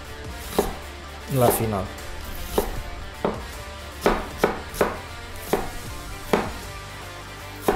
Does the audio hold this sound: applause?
no